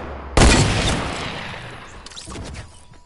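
A sudden loud burst of Fortnite gunfire hits at once, followed by a long decaying echo and a few fainter later shots, with no speech.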